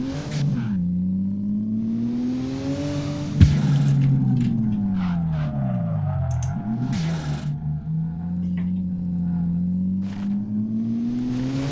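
A BMW E46 with a 2JZ engine revs in the drift game DRIFT21. The engine note rises and falls loudly and continuously, with shifts in pitch and short tire-like squeals.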